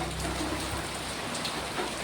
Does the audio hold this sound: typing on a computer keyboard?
no